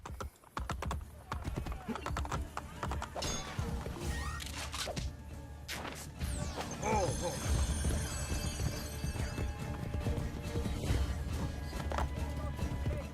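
Horse hooves clip-clopping at a gallop in Assassin's Creed Brotherhood, a steady rapid beat under busy game sound effects and music, with a brief neigh mixed in.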